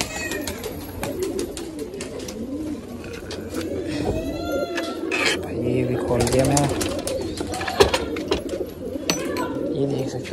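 A flock of pigeons coos and flutters after being released from their enclosure, a layered murmur of birds close by while someone talks over them.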